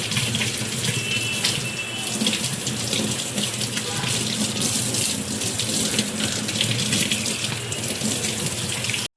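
Stuffed crabs being rinsed clean under a running kitchen tap, with steady, close water gushing into a sink and the splash of handling throughout, without a pause.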